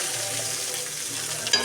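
Chicken curry frying in hot oil in a pan, a steady close sizzle with a sharp clink near the end.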